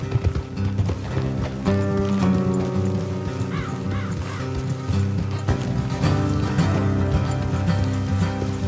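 Horses' hooves pound along in Red Dead Redemption 2, a rapid, continuous galloping rhythm mixed with loud in-game music and ambience, with a brief whinny-like call partway through.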